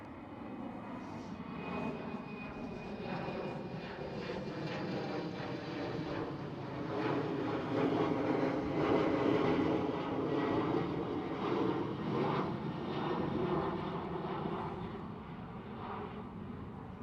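A KLM Cityhopper jet aircraft at Schiphol airport in Amsterdam gives a steady, loud engine roar that swells toward the middle and holds throughout, with no talking.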